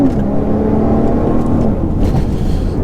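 A modified Volvo car accelerates up close, its engine droning loudly with a rising, throaty tone and steady mechanical whir.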